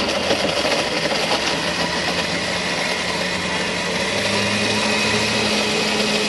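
A blender making juice with ice whirs loudly and continuously, a steady high-pitched motor grind with churning texture throughout, up close and with no talking.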